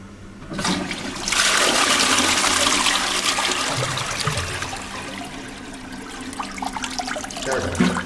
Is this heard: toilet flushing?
yes